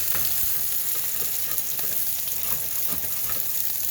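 Potatoes fry in a wok with a steady, close sizzle, punctuated by soft scraping and tossing sounds from stirring.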